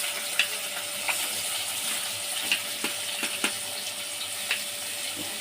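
Onions and green chillies fry in hot oil for Mumbai-style bhurji pav, a steady broadband sizzle with scattered sharp crackles and pops, close and continuous, with no voices.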